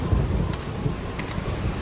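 Heavy rain and thunder pour down as a steady, dense roar of broadband noise with a deep low rumble underneath, loud and continuous without any voices.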